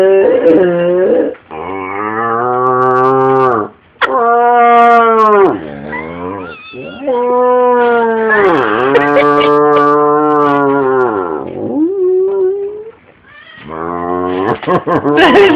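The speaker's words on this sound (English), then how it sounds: "That is actually a cow trachea that he's blowing in. It's a dog chewing." A dog chews on a dried cow trachea chew toy, pushing air through the tube so it makes loud, drawn-out moaning, mooing wails that rise and fall almost without a break for around fifteen seconds.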